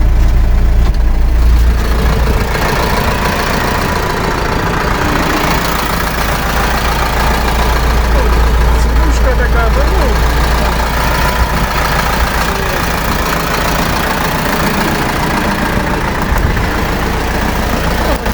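An LTZ-60AV tractor engine idling at operating temperature, a loud, close, steady low rumble running throughout with no talk over it.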